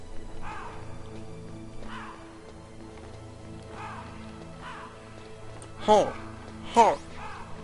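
Crows caw in the video game Metal Gear Solid, harsh repeated calls spaced a second or two apart and growing louder toward the end, over a low game ambience, with a brief voice at the start.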